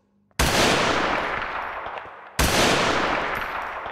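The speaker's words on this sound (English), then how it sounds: "We have shots fired down the tunnel again." Gunfire echoing down a tunnel in a police roleplay video game, two loud sustained bursts that start abruptly and ring out with long reverberant decay, no talking.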